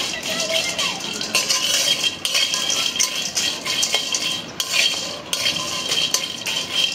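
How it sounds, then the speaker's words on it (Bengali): Dried puti fish being dry-roasted and stirred in a hot dry pan, giving a steady scraping, rattling sizzle with metallic utensil clinks throughout, close and fairly loud with no talk. "শুটকিটা শুকনো খোলা একটু ভেজে নিলে ঘ্রাণটা ভালো আসে।"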